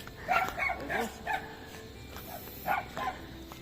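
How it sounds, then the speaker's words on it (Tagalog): A dog at a rural farm home gives a series of short, moderately loud barks and yips in an irregular rhythm, some bunched in quick pairs, over outdoor background noise. "Yung aso namin nag-antay lang dito sa taas oh."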